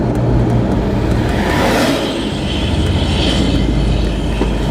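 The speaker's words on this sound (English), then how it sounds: "big old dump truck whipping around the corner there" A big dump truck swings around a corner nearby, heard as a loud, broad engine roar and rushing wind noise that stays strong throughout and swells briefly midway.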